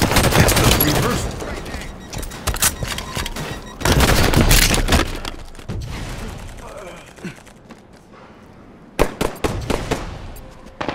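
Halo 5: Guardians multiplayer match with bursts of rapid automatic gunfire and sharp explosions, loud and clustered in volleys separated by brief lulls, with game announcer voice callouts between them.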